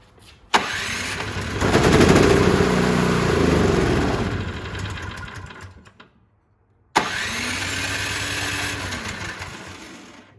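A Toro Power Clear 621 snow blower with a fault that makes it run only on choke starts with a pull and roars loudly for a few seconds. It dies off into silence, then is pulled again and runs steadily.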